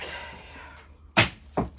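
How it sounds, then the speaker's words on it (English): Metal pliers drop onto a hard surface with a sharp, close clatter, followed a moment later by a second smaller knock. "Where my pliers just fell."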